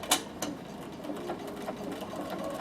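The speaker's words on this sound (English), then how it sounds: "I'm going to sew my blanket stitch on with it" A Bernina sewing machine stitches a blanket stitch along the edge of a braid, giving a quiet, quick run of rhythmic mechanical ticks with a few sharper clicks.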